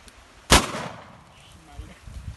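A single loud, sharp gunshot cracks out while a large pig is being shot and killed, then fades quickly. Low background noise and faint voices follow.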